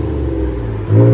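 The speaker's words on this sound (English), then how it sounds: "That BORLA XS gave it that deep tone without a lot of raspiness" A Ford F-150 EcoBoost V6 fitted with a BORLA XS exhaust rumbles at idle, then rises into a loud, deep rev near the end, heard close and alone.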